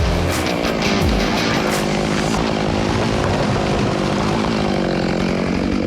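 A chainsaw cuts an under notch into a standing tree, a loud, steady, close engine whine running unbroken throughout.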